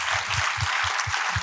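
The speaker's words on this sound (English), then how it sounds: "A round of applause for that." Audience applause during a film discussion honoring child actors, a short burst of steady clapping filling the moment with a faint low thumping underneath.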